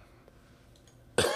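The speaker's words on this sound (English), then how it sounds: "Excuse me, I had to clear my throat." A single abrupt, loud throat clearing bursts out near the end after a stretch of quiet room tone, short and harsh with a cough-like rasp.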